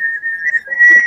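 Whistling of a children's clapping-and-whistling song, a steady bright sustained tone held close and loud, briefly wavering before breaking into a few softer scattered sounds at the end.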